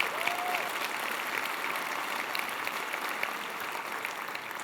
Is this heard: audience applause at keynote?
yes